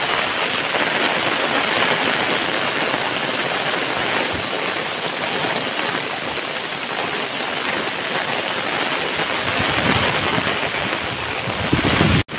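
Heavy monsoon rain in Konkan pours down amid rushing floodwater, a loud, dense, unbroken hiss and roar close by that cuts off abruptly at the very end.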